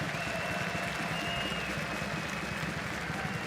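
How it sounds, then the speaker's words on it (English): Steady applause from a crowd at a Counter-Strike 2 esports tournament, dense clapping that fills the whole stretch without pause, fairly distant and even in loudness. "Guys, a big round of applause"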